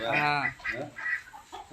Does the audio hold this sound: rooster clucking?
yes